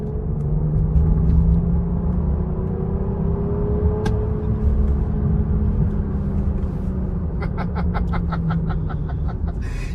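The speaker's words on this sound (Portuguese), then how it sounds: "só para vocês sentirem um pouquinho do V6 entrando em ação" A BMW X6 V6 engine accelerates from inside the cabin, a steady low droning rumble with a slowly shifting tone and faint clicking ticks toward the end.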